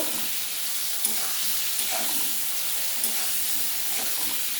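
Fish sizzle in hot oil in a pan for a Bengali prawn and potato mustard-poppy seed dish. A loud, steady hiss of frying runs throughout, with a few faint clinks and no talking.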